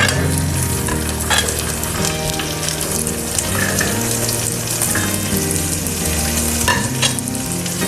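Onions sizzle and fry with ginger and garlic in a pan, a loud continuous crackle with stirring scrapes and occasional clinks throughout, close up and with no talk.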